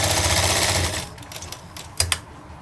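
A sewing machine runs a fast, close, steady stitch through fabric while setting piping onto a sleeve for about a second, then stops, leaving a few light clicks and taps.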